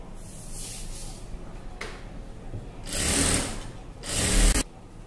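A sewing machine stitches the lining of a puff sleeve in short bursts. Two loud runs of rapid mechanical whirring stand out, with quieter handling sounds between them.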